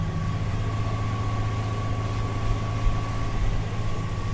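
A Yamaha 225HP outboard engine on a 2020 SunCatcher V324ss pontoon boat drones steadily under throttle at about 3,100 RPM, a loud continuous low rumble with a constant whine above it and no talking.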